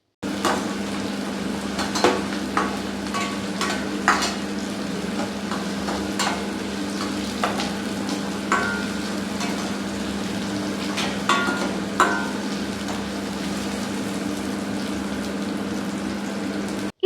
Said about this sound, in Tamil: கடைசியா இஞ்சி ஆட் பண்ணி நல்லா வதக்கிக்கோங்க.